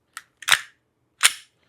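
A pistol loaded with a dummy round, its slide locked back, has its trigger pulled, giving three short, sharp metallic clicks at close range with quiet gaps between them.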